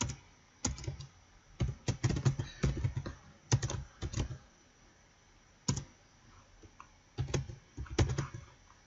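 A username is typed on a computer keyboard in short bursts of close, crisp key clicks separated by brief pauses, with no talk.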